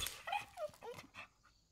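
A cartoon dog in an animation whimpers and yips, a quick series of soft, high, whiny cries close by with no talking.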